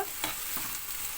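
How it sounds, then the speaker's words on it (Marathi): Onion frying in oil gives a continuous, even sizzle with faint scraping stir strokes, close and steady, with no voices. "कांदा तेलामध्ये पूर्ण ब्राऊन होईपर्यंत"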